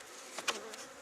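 Honey bees buzz faintly around a beehive super, a low steady hum with a few brief louder passes of individual bees flying close.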